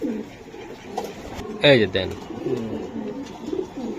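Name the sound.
racing pigeons cooing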